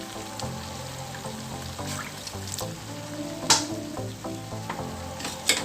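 Cauliflower, mushrooms and spring onions being stir-fried in a pan, with continuous close sizzling broken by scraping and clattering stir strokes, plus a few sharper knocks.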